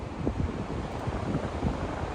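Ocean surf churning at a reversing falls where river and sea meet, heard as a steady broadband wash with wind buffeting the microphone, continuous and fairly close for the whole stretch, no voices.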